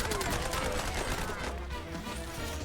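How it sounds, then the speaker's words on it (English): Dense, continuous gunfire in Outriders crackles throughout, a busy wash of rapid shots with no clear gaps, fairly loud and close. "There's a lot of gunfire."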